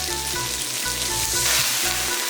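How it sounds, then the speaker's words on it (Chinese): Loud, steady sizzle of mantis shrimp being stir-fried in a hot wok with ginger, scallion and chili, with rhythmic scraping and tossing pulses throughout, close and continuous with no talk. "炒香后把虾菇倒进去，稍微翻炒一下，加水"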